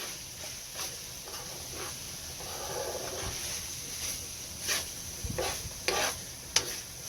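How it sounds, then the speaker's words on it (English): Cooked rice is stirred into a pan filling, with soft scraping strokes and a few sharper clacks of a utensil over a faint, low sizzle. "Stir that up."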